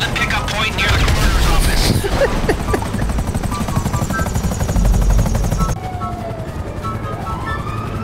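Helicopter in GTA V, a steady loud rotor drone mixed with bursts of gunfire and game action, then a quieter engine hum after an abrupt cut.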